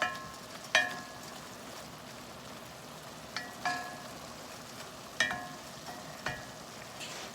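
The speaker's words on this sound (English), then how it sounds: "I'm gonna go ahead and mix everything together so that it'll be a little bit easier for everything to cook off and for me to stir" A spoon scraping and knocking against a cast iron pan as food cooks, several sharp metallic clinks spaced irregularly over a constant low sizzle, close and clear with no talking.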